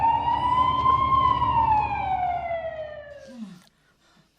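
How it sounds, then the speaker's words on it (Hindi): An ambulance siren wails loud and close in a single long rising-then-falling sweep over a low engine rumble, cutting off abruptly near the end. "मैं एम्बुलेंस बुलाता हूँ।"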